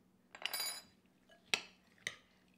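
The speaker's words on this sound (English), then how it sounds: "And give them a stir." A spoon stirring blueberries with almond extract in a bowl, giving one scraping clatter followed by two sharp clinks against the bowl, close and quiet in an otherwise still room.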